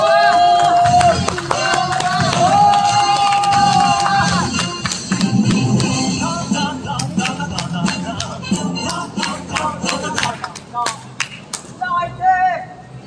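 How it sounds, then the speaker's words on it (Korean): Outdoor candlelight protest rally crowd in Cheongju greets a speaker with rhythmic clapping and cheers over amplified background music, the sharp claps thinning into scattered bursts toward the end. "박수!"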